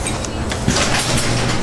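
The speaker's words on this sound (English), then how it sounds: "Shut the garage door, please." A garage door rolling shut in one continuous loud mechanical rumble with a clunk partway through, close by, no voices over it.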